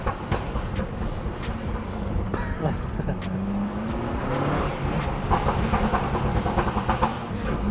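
An Abarth Rivale's engine drones with a rough, steady, tractor-like rumble from inside the moving car, while people talk over it.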